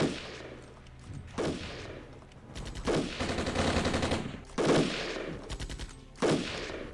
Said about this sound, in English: Taking indirect fire.